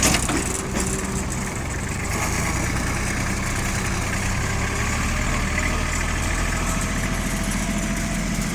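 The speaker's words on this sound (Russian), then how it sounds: "Прекрасный тракторок Kubota компании Progress Auto" A Kubota GL33 tractor, fitted with a cab, reverser and power steering, runs at a steady idle with a low, even engine rumble held close and loud for the whole stretch, with no talk over it.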